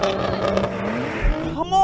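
A sports car in a drag race among a Nissan GT-R, Porsche 911 and Audi R8 pulls away with a rising engine note that bogs down and stalls, then revs sharply again, loud and close, with voices over it.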